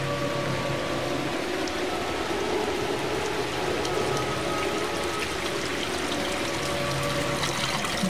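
Water gushes from an opened tap in Forbidden Siren, a loud, steady splashing rush that holds constant throughout with no voices.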